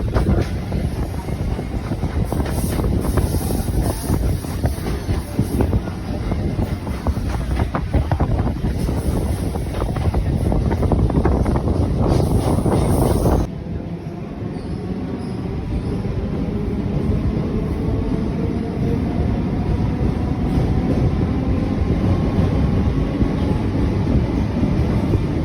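A Chennai MRTS suburban train approaches Chepauk station near M.A. Chidambaram stadium, giving a loud, steady rumble with heavy wind buffeting; the roar shifts and drops slightly partway through before continuing.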